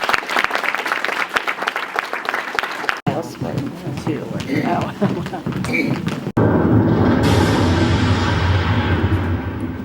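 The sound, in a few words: audience applause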